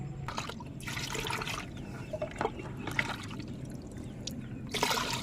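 Water trickles and splashes softly into a bucket, a steady low wash of liquid with occasional small splashes and knocks.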